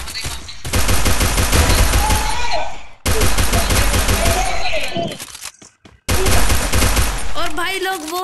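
Rapid automatic gunfire in the video game Garena Free Fire, loud dense bursts in three long stretches with short breaks, a voice speaking over the last part.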